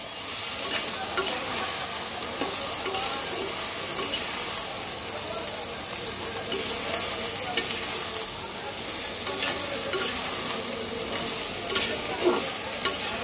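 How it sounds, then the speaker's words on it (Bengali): Vegetables, green chilies and salt being fried and stirred in a pan for a small-fish curry, a steady close sizzle with scraping stir strokes throughout, no voices. "এখন আমি সব কিছু ভাজা ভাজা করব।"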